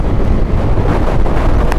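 Strong wind buffets the microphone while riding a 2026 Hero Xoom 160 scooter, giving a loud, steady rumbling roar with no speech.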